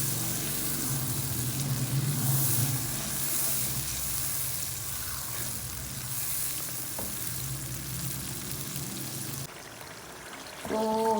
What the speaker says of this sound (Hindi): अभी मैं इसमें डालने लगी हूँ दाल मूंग, अचारी दाल मूंग